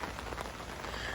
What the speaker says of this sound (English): You can hear the rain coming down softly in the background.